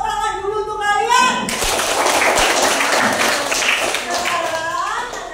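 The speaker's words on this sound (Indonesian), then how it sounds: "Tepuk tangan dulu untuk kalian." Children applaud together in an elementary school classroom, a burst of dense clapping of moderate loudness that follows a teacher's voice and fades as speech resumes.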